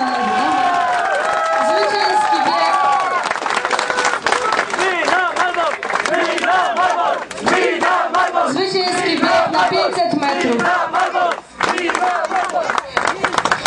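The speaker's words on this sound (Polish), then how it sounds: "gorące brawa po raz kolejny zwycięstwo" Crowd applause and cheering after a dragon boat race final at a county day event, a steady dense roar of clapping and shouts lasting throughout, with a loudspeaker voice over it.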